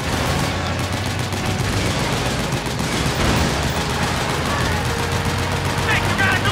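Dense gunfire in Metal Gear Solid 4: Guns of the Patriots, Act 2 Solid Sun: sustained overlapping bursts and volleys of shots forming a loud, continuous battle din, with voices mixed in.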